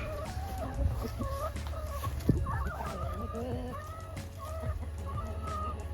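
Chickens cluck and murmur continuously nearby, with a few louder squawks amid steady barnyard background noise.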